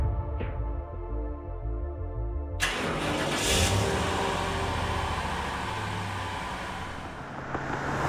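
A car engine cranks and catches in a Minecraft film scene, with a stuttering low start followed by a sudden rise into a sustained revving roar as the car pulls away, holding steady and then easing slightly.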